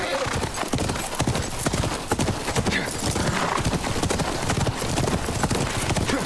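Horse hooves clip-clop in a fast, steady gallop within a video game, continuous and fairly loud throughout, with a brief neigh and some talking over the hoofbeats.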